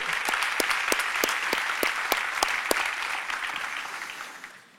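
A church congregation claps together in a steady, rhythmic beat, loud and close, gradually fading toward the end.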